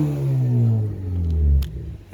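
A 2015 Ford Focus ST with an EcoBoost engine revs to about 4,500 rpm, rising in pitch, then falling away as the throttle is released, loud and close.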